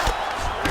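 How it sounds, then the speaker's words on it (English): A crowd in the UFC 5 video game swells briefly in reaction to a strike from the bottom fighter, a short burst of cheering and shouting over a steady arena murmur. "looked like that strike from the bottom fighter got the crowd's attention"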